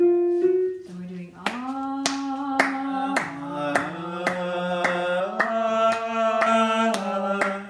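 Hand clapping on a steady beat during a vocal lesson, sharp claps repeating about every half second beneath a sustained sung "ah" vowel that moves between pitches.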